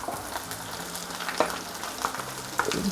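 Onions fry in a pan with garlic that has already browned, cooking for a creamy malai kofta gravy, giving a steady close sizzle with a few sharp pops and faint stirring clinks, no voices.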